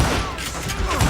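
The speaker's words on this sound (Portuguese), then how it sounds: "Você tem que dar uns 3 tiros pra acertar" Gunfire in the Western video game Call of Juarez: Gunslinger, with a quick burst of shots layered into a dense, loud game soundtrack. It lasts only about a second.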